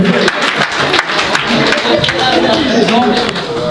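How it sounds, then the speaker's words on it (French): An audience at a presidential investiture ceremony claps loudly in an irregular patter of overlapping hands, with voices chattering through the applause. "On applaudit très fort, mesdames et messieurs."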